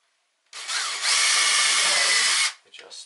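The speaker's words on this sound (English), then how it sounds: "So I'm going to pre-drill these." A power drill bores pilot holes into wood while an aluminum bathroom medicine cabinet is being mounted, making one loud, close whirring burst of about two seconds that tails off into a few brief scrapes.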